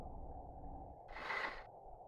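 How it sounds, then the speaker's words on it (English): A sub chaser's propeller thumps over submarine sonar in Silent Hunter 4, a steady low pulsing drone with a brief brighter swell of noise partway through, faint and distant. "That sub chaser's really thumping, and I mean really thumping."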